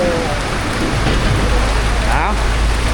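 Steady rain pours down around a forest shelter in the mountains, a dense, continuous hiss close to the microphone, with faint voices underneath.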